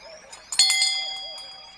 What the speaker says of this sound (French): Maintenant, essayons cette cloche à vache.